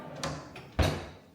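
A big drawer in a house slides open and shut, two short wooden thumps about half a second apart, the second louder and closer, with no one speaking.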